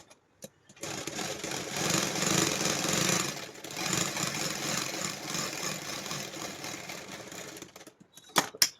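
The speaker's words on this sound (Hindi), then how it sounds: "अब मैं इसमें जिग-जैग कर देती हूँ।" A sewing machine runs a zigzag stitch along a pant pocket, a steady close whirring and clatter that holds for about seven seconds with a short dip midway, then stops for a few faint clicks.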